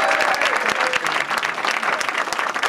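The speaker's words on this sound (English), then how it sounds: "Please give a great round of applause to the mayor of St." Audience at a political get-out-the-vote rally in Hopkins, Minnesota applauds the mayor of St. Paul, loud close clapping with scattered sharp claps and a faint crowd murmur.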